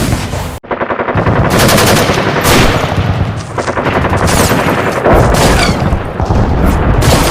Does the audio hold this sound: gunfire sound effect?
yes